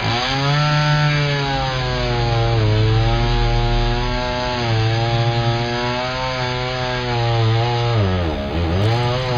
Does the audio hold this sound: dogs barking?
no